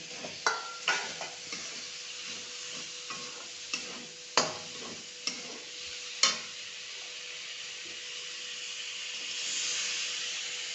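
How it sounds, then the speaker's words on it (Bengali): Vegetables are stir-fried with spice paste in a pan for a moong dal with fish head. A low steady sizzle runs underneath while a spatula scrapes and knocks against the pan in irregular clacks, easing into a softer hiss at the end. "এবার সবজি দিয়ে ভালো করে মশলাটাকে কষিয়ে নেবে"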